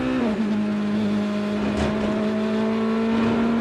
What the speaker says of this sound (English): that JDC Miller Porsche flashes past as they make their way into the tight left-hander